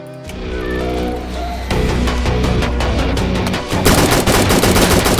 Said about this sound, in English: command panel, give item. Assault gun.